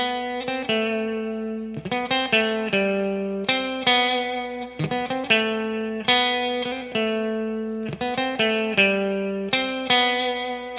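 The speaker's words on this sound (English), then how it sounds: "we hear some harmonized guitars, and there's 3 lead lines that layer up on top of each other" A distorted, harmonized lead guitar plays a line. Sustained layered notes ring out close and loud with quick picked changes and a heavy effects-laden tone, and no talk.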